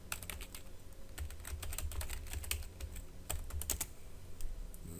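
Typing on a computer keyboard, a steady patter of light key clicks with irregular bursts and pauses, close and quiet against a low background hum, with no talk.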